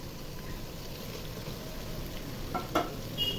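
Spices such as turmeric, chili, coriander, cumin and salt fry steadily in a pan for a mutton curry, giving a soft continuous sizzle with a faint stir or clink near the end and no talking.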